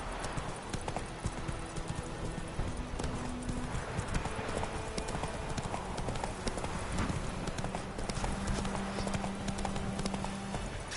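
Steady clip-clop of Roach's hooves at a gallop in The Witcher 3, close and continuous over a busy game soundscape with faint voices.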